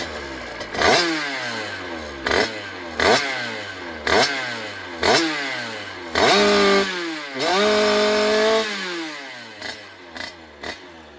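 A 2013 Beta 50 RR two-stroke dirt bike with a 75cc kit, running a bit rich, revs repeatedly in sharp bursts, its whining tone climbing and falling, with a longer sustained rev near the end; loud and close.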